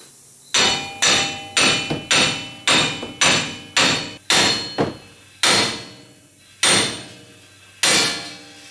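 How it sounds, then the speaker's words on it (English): A hammer strikes a front wheel hub assembly on a 2007 Nissan Xterra to drive it out, about a dozen loud, close metallic blows landing in a steady rhythm that then spreads out. "now I'm going to tap the hub assembly out"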